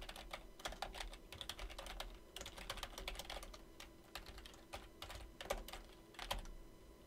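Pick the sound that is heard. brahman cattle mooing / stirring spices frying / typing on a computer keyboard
typing on a computer keyboard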